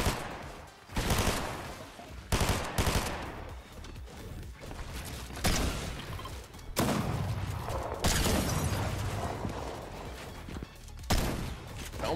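Fortnite gunfire comes as bursts of loud, dense shots and rattling volleys that repeat irregularly, with game noise between them and no talk.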